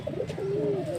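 Pigeons coo softly near a pigeon house as they are released, a low, drawn-out rolling call rising and falling, fairly faint and close.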